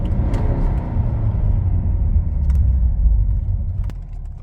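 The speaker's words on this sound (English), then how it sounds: "Wouldn't rev up like that, it would only go at about 3000 RPM." A Mercedes E250 engine revs up, heard as a loud, close rumble that rises and holds steady for about four seconds, with a few faint clicks on top.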